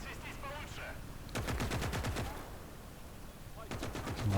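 Machine gun fire in the Gates of Hell strategy game during its Finland campaign. Two rapid bursts of shots stand out from a moderately quiet battlefield backdrop, the first longer than the second.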